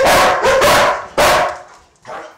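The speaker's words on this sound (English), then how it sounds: "He appears tense, constantly barking and pacing back and forth." An anxious, tense dog barks loudly and close by in three sharp bursts, followed by a softer yip, with no talking.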